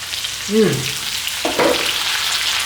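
Beef, lamb and onions frying in a pan, a soft continuous sizzle close by, with brief voice-like sounds partway through.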